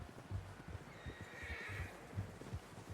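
A horse in Red Dead Redemption 2 whinnies in a drawn-out, wavering call, with low hoof thuds and rustling underneath.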